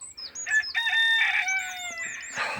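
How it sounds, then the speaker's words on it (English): A cockerel crows one long, drawn-out call close by, rising then trailing off, with small birds chirping faintly behind it. "That cockerel."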